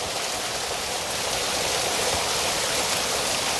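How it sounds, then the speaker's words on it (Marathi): Heavy monsoon rain pours down in Konkan, a dense, steady roar of water hitting surfaces that fills the air continuously at an even, loud level, with no voices. "एकदम जोरदार पाऊस आपल्या कोकणामध्ये सुरू झालेला आहे"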